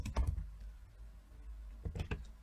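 Someone types a search on a computer keyboard, a few quick clusters of soft key taps near the start and again near the end, with a quiet pause between.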